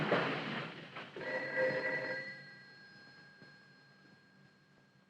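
An old telephone bell rings loudly in a single burst, then fades into a lingering ringing tail over faint background hum.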